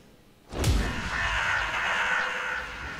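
A sudden loud cry at the start, then a sustained raspy crow cawing from the video game Darksiders II: Deathinitive Edition, holding steady for a couple of seconds over a low background hum.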